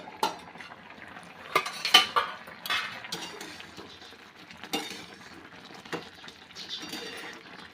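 A lid lifted off a cooking pot of coconut rice made with jaggery, with metallic clinks and scrapes of cookware and utensils in a series of short, close knocks.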